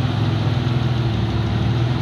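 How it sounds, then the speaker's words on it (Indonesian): A 2000 cc six-cylinder V6 injection car engine idles steadily nearby, a continuous low rumble with an even hum and no speech. "Ini yang tipe V ya, V6 injeksi 6 silinder 2000 cc."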